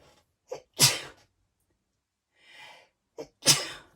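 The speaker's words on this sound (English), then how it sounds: "don't say I'm going to sneeze now on top of everything else" Two sharp sneezes about three seconds apart, each preceded by a quick inhaling gasp. Close and loud, with quiet between them.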